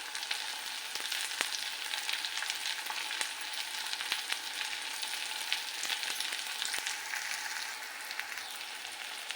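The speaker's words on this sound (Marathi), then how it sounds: "आता आपण टोमॅटो टाकूया। सॉरी, पहिला कढीपत्ता टाकायला विसरले मी।" Onions frying in a pan as tomatoes and curry leaves go in, producing a steady, close, crackling sizzle with scattered pops that continues alone without any voices.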